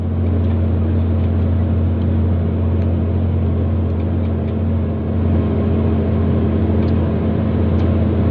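A motorcycle engine in third gear holds a steady, loud droning hum with a constant low tone while riding, with no talk over it.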